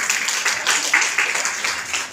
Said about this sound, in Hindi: तालियां, जोरदार जो है तालियां करते रहें